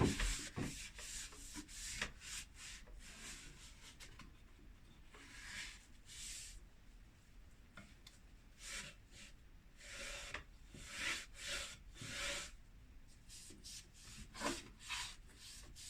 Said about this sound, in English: just tack off and grab all of that out of there